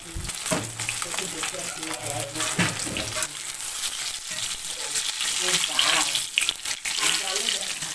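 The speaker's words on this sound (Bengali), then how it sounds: "আর এদিকে গ্যাসে তেল বসিয়ে দিয়েছি, তেলে মাছগুলো প্রথমে ভেজে নেব।" Large rohu fish pieces frying in hot oil in a pan give a continuous close sizzle and crackle, with water and utensil clatter mixed in and some faint voice.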